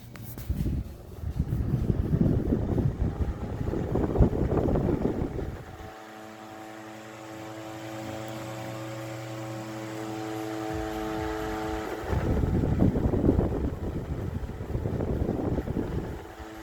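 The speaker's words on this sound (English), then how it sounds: "This is a 3-speed fan as well, and it can be fixed to be a stationary fan." An oscillating three-speed electric fan with an industrial finish hums steadily at close range, its motor drone carrying a layered tonal whine that shifts and swells as the blades turn, with broader airy rushing before and after the steady stretch.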